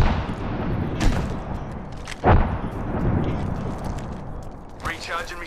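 A grenade goes off during a video game firefight, a short booming blast heard over a steady din of gunfire and battle noise, with a voice talking through it.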